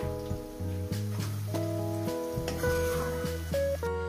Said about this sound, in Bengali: আরো ভাজতে হবে, যেহেতু বেরেস্তা করব।